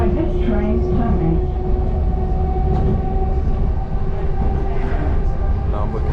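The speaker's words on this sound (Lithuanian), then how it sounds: "Lipam į tramvajų ir važiuojam." A tram is ridden, with a loud continuous rolling rumble and squealing wheel tones throughout, under occasional voices.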